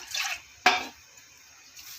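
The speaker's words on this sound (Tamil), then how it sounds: "இன்னும் கொஞ்சம் வேணால் நம்ம தண்ணி சேர்த்துக்கலாம் லைட்டாக" A brief splash of water pouring into a pot of rasam, preceded by a soft hiss, then quiet; short and close, no talking.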